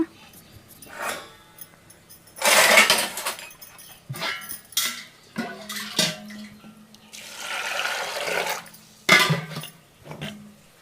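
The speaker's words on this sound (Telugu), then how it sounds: "గింజలను అయితే కడగాలి ఫ్రెండ్స్, కడుగుతున్నాను అన్నమాట." Seeds being washed by hand in water inside a home kitchen, with repeated sloshing, splashing bursts and light clinks of a vessel, a voice talking between the splashes.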